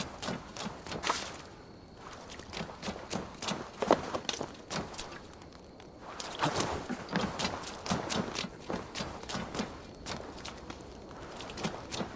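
Steady clip-clop of horse hooves in Assassin's Creed Valhalla, a continuous trotting rhythm that stays close and fairly loud throughout, with no voices.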